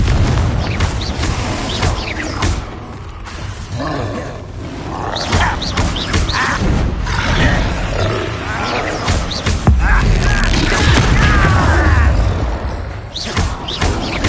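Explosive blasts from the Confringo spell in the Hogwarts Legacy video game boom loudly through a frantic fight, layered with roaring creature cries, whooshes and continuous heavy impacts, the densest rumble coming late.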